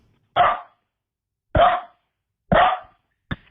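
Dog barking close by, four sharp, loud barks spaced about a second apart, the last one clipped short, with silence between them.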